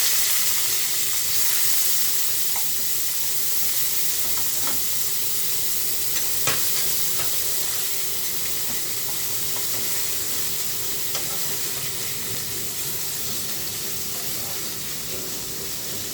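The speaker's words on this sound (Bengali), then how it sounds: "পাঁচফোড়নটা আমার ভাজা হয়ে গেলে আমার পেঁয়াজ কুচড়া দিয়ে দেবো" Chopped onion and panch phoron five-spice fry in hot oil in a pan while a Bengali fish curry with potato, lentil dumplings and eggplant is cooked, making a steady, even sizzle with occasional faint pops throughout.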